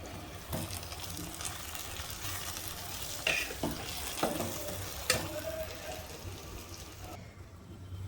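Chopped onion with a pinch of salt frying in a pan while being stirred, a steady soft sizzle with scattered scrapes and clicks of the spoon throughout.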